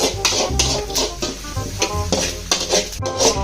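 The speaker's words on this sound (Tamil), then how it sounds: "ஒரு பக்கம் ஆனியன் ஃப்ரை பண்ணிக்கிட்டு இருக்காங்க ஆனியனும் கறி லீவ்ஸ்" Onions and curry leaves frying in a pan while being stirred, with a steady sizzle under repeated scraping strokes of a spoon, close and fairly loud, no talking.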